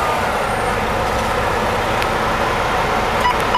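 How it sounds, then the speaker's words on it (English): Diesel engine of a 2008 Volvo VNL semi truck idling just after startup, a steady, dense rumble heard close and continuous throughout with no talk. "I'm going to go ahead and fire it up for you here and let you watch it run through all the cycles."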